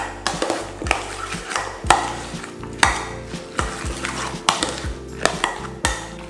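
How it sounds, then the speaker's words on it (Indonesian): A spoon stirs mayonnaise mixture in a bowl, making repeated clinks and wet scraping knocks against the sides at an irregular rhythm, close and fairly loud with nobody talking. "Mayonesnya kita masukin semuanya. ini kita aduk-aduk dulu."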